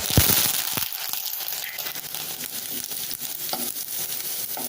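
Curry leaves and garlic fry in oil in a continuous close sizzle, with a few knocks of a utensil near the start and brief crackles scattered through it. No one speaks.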